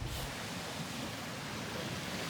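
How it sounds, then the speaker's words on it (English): Steady, broad roar of surf breaking on rocks along the Wellington coast, continuous white-water wash with no distinct individual wave hits, heard from moderately far with no voices. "lots of white water, waves crashing"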